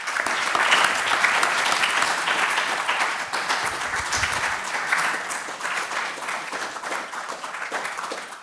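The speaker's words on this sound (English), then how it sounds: "So maybe a round of applause for them." An audience applauds panel speakers at an annual fusion power meeting, steady sustained clapping that holds loud for the full stretch with a slight dip midway.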